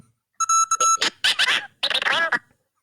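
A video game rabbit character's sound effect: a short run of bright, stacked electronic beeps followed by warbling, voice-like synthesized chirps in bursts, loud and close, with no talking.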